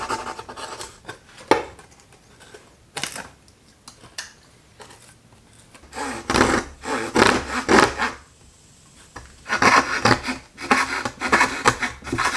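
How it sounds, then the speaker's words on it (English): A rough file smooths sawn cuts in wood with irregular scraping strokes, some quiet and sparse, others in louder close bursts, with short pauses between them. "So I took a rough file and I kind of just went in here and smoothed out the cuts"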